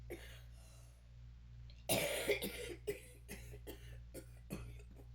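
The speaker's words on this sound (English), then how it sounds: "Bear with my coughing." A sudden burst of harsh coughing, then a run of shorter coughs and throat clearing repeating every half second or so, close up in a quiet room.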